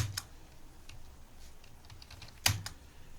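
Typing on a computer keyboard gives a quiet, sparse run of soft key clicks, with one sharper cluster of taps near the end and no talk over it.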